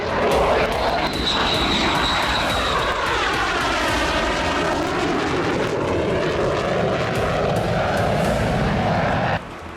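A Mirage 2000 fighter jet roars past close and loud, its continuous engine noise sweeping downward in pitch as it passes, then cutting off abruptly at the end.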